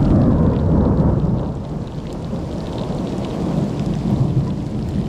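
Heavy rain pours down steadily during a thunderstorm at a hot, humid Australian south coast campsite, with low rumbling thunder rolling beneath the dense, continuous downpour; loud and close, no voices.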